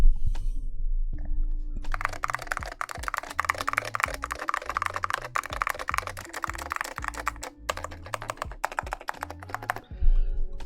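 Typing on a Keymax keyboard built with Salmon Alps switches: dense, fast keystrokes clatter steadily for about eight seconds, with a short pause near the start and a brief stop before the end.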